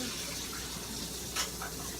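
Water from a pot drains into a kitchen sink with a steady, moderately loud gushing rush that stays even throughout and includes a brief splash, with no talking.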